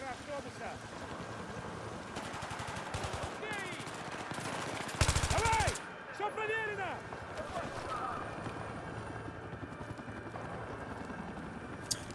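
Bursts of automatic gunfire in the Battlefield 3 campaign: several short volleys and one dense, loud burst midway, under frequent speech from players.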